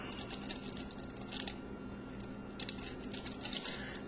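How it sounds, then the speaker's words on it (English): Small plastic pieces of an Eni puzzle set click and patter rapidly as they slide and snap into place, a steady run of close, light ticks with brief louder bursts and no talking. "you can hear that clicking to make sure that it gets into the proper spot"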